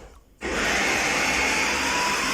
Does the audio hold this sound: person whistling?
no